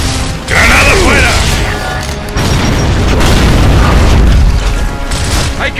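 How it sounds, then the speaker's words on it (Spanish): A grenade explosion in the game Gears of War, a loud heavy boom with a mechanical clatter, a brief drop, then a sustained roar and debris. "¡Granada fuera!"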